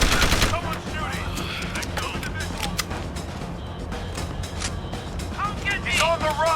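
Rapid gunfire bursts from the video game Deus Ex: Human Revolution, dense overlapping shots through most of the stretch, with shouting voices breaking in over the shooting.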